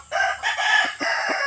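A gamefowl rooster, prepared as a three-time winning fighting cock for a May fiesta, crows in a loud, close, drawn-out call with a few short breaks and throaty dips, heard alone without talk.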